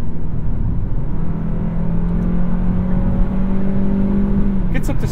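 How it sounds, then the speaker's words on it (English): Cabin of a 2021 Kia K5 cruising at about 70 mph on the highway with the sunroof shade closed: a steady, continuous low road and engine drone with a faint tonal hum, unbroken throughout. "so you can get a more accurate example of how the car sounds at 70"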